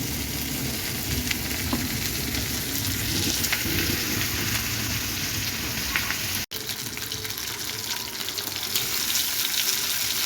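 Food coated in cornflour and egg frying in hot oil, a steady dense sizzle with faint stirring, continuous throughout and briefly cut near the middle, with no talking.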